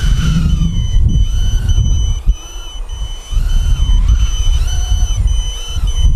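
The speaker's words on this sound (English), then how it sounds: "My quadcopter is already beeping." Repeated electronic beeps and warbling tones from a Fly Fox 110 brushless micro FPV quadcopter ring out over a rumbling, noisy background, with a brief drop in the noise partway through.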